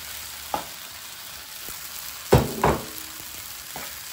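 Steady sizzling of a shrimp teriyaki stir-fry in a hot pan, with a sudden louder crackle as egg goes in, then a few spatula scrapes and taps, close and without talking.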